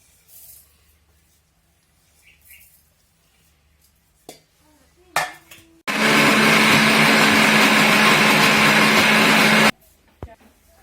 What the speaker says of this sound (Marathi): आता हे मिक्सर मधून काढायचं आहे मसाला आणि मिरच्या लसूण जिरे टाकून घेऊ